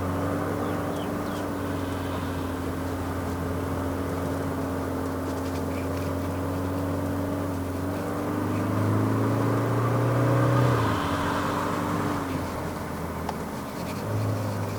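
A 2023 Toyota Hilux GR Sport with a 2.8L engine climbing the road to Genting, a steady droning engine hum heard from inside the cab, with a rise in revs as it shifts down partway through.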